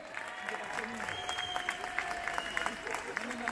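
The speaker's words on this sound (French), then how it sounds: "Et je vous demande de les applaudir très très fort." A crowd at an outdoor Hanukkah candle lighting claps in a dense, steady patter of applause, with a voice speaking over it.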